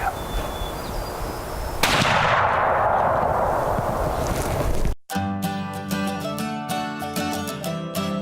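A single loud rifle shot cracks out at a black bear during a hunt in Alaska, followed by a long rolling echo through open country before background music takes over.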